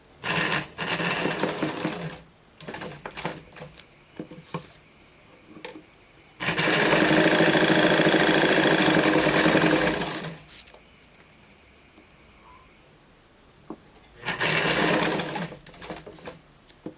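A sewing machine stitches a denim jeans skirt in three separate runs: a short burst, a longer steady whir of about four seconds, then a brief final run, with quiet pauses between them.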